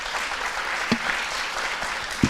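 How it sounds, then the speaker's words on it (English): Applause from a business forum audience for a panel, a steady patter of many hands with a couple of sharper claps standing out, moderately loud and continuous. "Please give them a round of applause."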